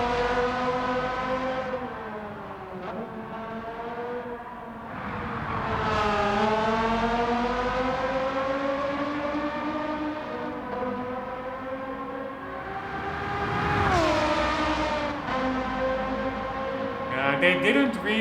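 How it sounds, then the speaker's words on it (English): A Porsche Carrera GT engine in Gran Turismo 7 revs and drones continuously with rising and falling pitch through gear changes, loud and steady with no voices over it. "Did they capture that Carrera GT sounds?"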